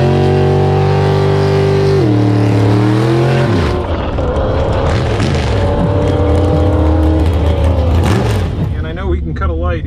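A loud Ford Maverick drag car engine roars and revs up hard, its pitch climbing through gear changes as it launches down the track and speeds away, with voices talking over it.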